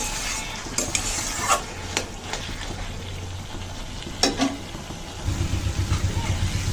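Bottle gourd fries in a wok as a spatula stirs and scrapes it, with soft sizzling under sharp metallic scrapes spaced irregularly, then a steadier rhythmic stirring toward the end.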